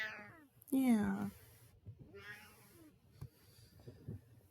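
A cat meows close by in a drawn-out cry followed by softer meows, while a person talks quietly in between.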